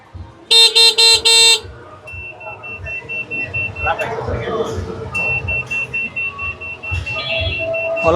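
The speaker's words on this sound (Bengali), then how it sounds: "আমরা চাবিটা দিলাম অন করলাম গাড়ি" An electric auto-rickshaw being switched on with its key gives four loud, rapid electronic beeps, followed by a thin steady tone that breaks off and returns. People talk faintly in the background.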